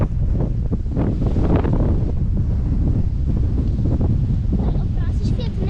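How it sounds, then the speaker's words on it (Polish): Strong wind gusting across an exposed mountain trail on Czerwone Wierchy in the Tatras in October, a steady loud roar with buffeting rumble on the microphone throughout. "ale wieje koszmarnie"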